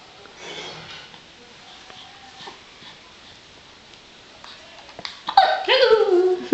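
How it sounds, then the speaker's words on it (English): A small child hiccups, giving a few short, soft catches spread over several seconds. Louder whiny vocal sounds and squeals from the child follow near the end. "you got the hiccups?"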